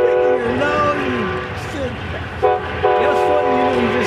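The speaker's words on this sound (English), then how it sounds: "Your original rear horn for Amtrak unit." An Amtrak unit's original rear horn on the Capitol Corridor line in Oakland, California, blows loud and close as a steady multi-tone chord for about four seconds, with a brief dip and a rise toward the end.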